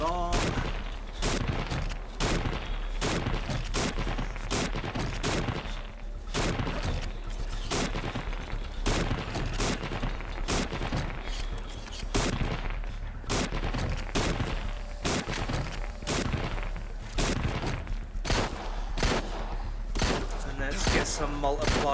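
Rapid bursts of video game gunfire, dense repeated shots firing nearly nonstop at a constant loud level, with a continuous low hum beneath.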